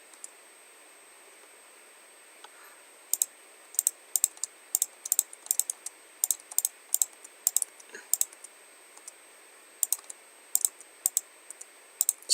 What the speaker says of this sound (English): you can hear my mouse clicking